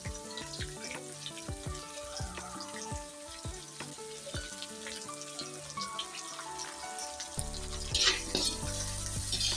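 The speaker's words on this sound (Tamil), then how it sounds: "அந்த சிக்கன் பொரிச்ச எண்ணெயை சேர்த்துட்டு அதில் கொஞ்சமாக கருவேப்பிலை, அதோட வெட்டி வச்சிருக்கிற எல்லா மரக்கறியையும் சேர்த்துக்கொள்ளுங்க" Chopped vegetables, including carrot, and curry leaves fry in oil left from frying chicken for chicken fried rice, giving a continuous close sizzle with stirring clatter and a burst of running water near the end.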